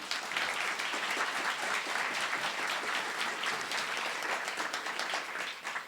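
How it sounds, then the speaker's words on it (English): Audience applause at an awards ceremony, a dense, loud wash of many hands clapping together that holds steady for several seconds before tapering at the end. "So I'd like to have a big round of applause for NEF and all the work they do."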